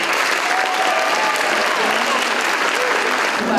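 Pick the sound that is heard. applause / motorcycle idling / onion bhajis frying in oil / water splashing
applause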